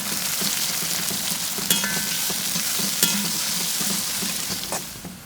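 Two finely sliced shallots fry in coconut oil in a pan for a Kerala-style beef dish, crackling with a dense, close sizzle, punctuated by a few sharp spatula taps and scrapes, with no talking.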